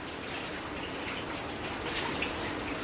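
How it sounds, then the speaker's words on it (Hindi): Tap water runs steadily in a home kitchen while something is washed, a continuous close splashing hiss with no talking. "अब इसमें पानी बदल के और इसे खूब धो दिया"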